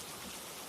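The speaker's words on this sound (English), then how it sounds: "the rhythmic swish of the wipers and the drumming of rain on the roof filling the void" Faint steady rain ambience, an even wash of fine drops drumming on a surface, quiet and uniform with no voices.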